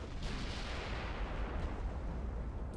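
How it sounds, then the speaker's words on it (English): 18-inch naval guns firing shells in the video game Ultimate Admiral: Dreadnoughts, a dense, broadband boom of distant-sounding artillery that rolls on for a few seconds without speech. "6 shells remain on the 18-inch gun"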